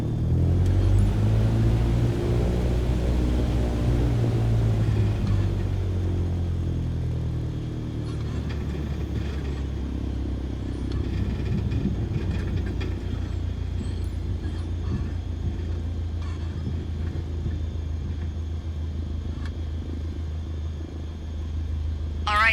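Aircraft engine in Microsoft Flight Simulator 2020 while the plane taxis into position: a low, steady droning rumble, loudest at first, then holding at an even level for the rest of the stretch.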